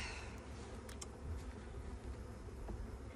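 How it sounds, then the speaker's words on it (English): Bees buzz around an open new hive while a frame feeder is being added, a steady low drone of many insects close by, with a few sharper passes and no talking. "Bees are flying in."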